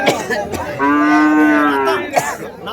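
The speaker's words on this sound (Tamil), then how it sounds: "ஸோ மாடு சூப்பராக இருக்குது பாருங்கள்." A single cow gives a loud, close moo lasting over a second at a busy Madrapalli cattle market, with faint crowd noise around it.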